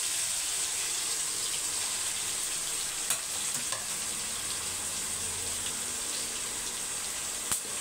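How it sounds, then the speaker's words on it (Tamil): Chicken fries in hot oil with a loud, even, continuous sizzle and a few faint clicks of utensils over it. "நல்லா பொரியட்டும்."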